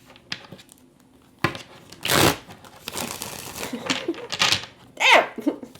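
Several bursts of quick papery riffling as tarot cards are shuffled, come in short bouts close by, with a voice talking between them.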